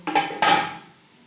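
Mutton being stirred in a pan over a high flame, two quick metallic scrapes of a spoon against the pan close up, then the clatter fades to quiet.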